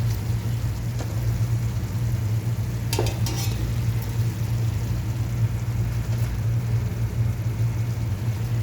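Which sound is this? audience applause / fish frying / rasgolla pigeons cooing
fish frying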